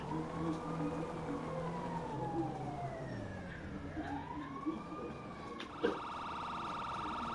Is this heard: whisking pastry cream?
no